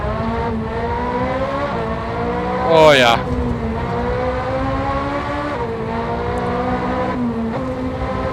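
A video game Ferrari racing car engine in Assetto Corsa revs high, drops pitch through quick downshifts into a tight corner with a brief sharp roar, while a voice speaks a short exclamation.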